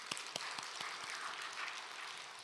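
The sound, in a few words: congregation applauding the church accompanist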